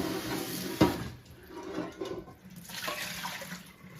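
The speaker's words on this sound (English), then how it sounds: "you might want to rinse it again if you still want to stay from all the dirty stuff" Water splashes and swishes while rice is rinsed in a bowl, with a sharp knock early on and then continuous, moderately faint running and sloshing that rises again toward the end.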